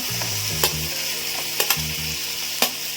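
Potatoes dropped into hot oil with fried spices for a Bengali cauliflower fish-head curry sizzle steadily, with a few sharp clicks of a spoon against the pan and no talking.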